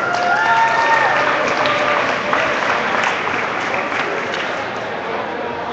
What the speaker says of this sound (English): It's okay, you can applaud that one.